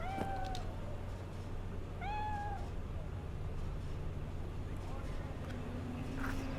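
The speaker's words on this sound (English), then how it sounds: "Oh, there's a cat I can pet." A stray cat in Cyberpunk 2077 gives a few distinct meows, one near the start and another a couple of seconds later, over a low steady hum of city ambience.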